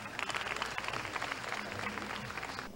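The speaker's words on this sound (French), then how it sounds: "sous vos applaudissements" Audience applause at a beauty pageant final, a dense, steady wash of many hands clapping that carries on evenly for a few seconds before cutting off abruptly.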